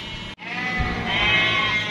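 Sheep at a quarantine station, many weak and exhausted after a long truck journey, give one long wavering bleat that carries loud and close from start to finish with no voices over it.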